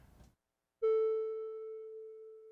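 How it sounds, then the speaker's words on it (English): A single sustained synthesizer tone from a Prologue synth rings with added reverb, entering cleanly after a brief quiet gap and fading slowly while its overtones linger. "Let's add a little bit of reverb."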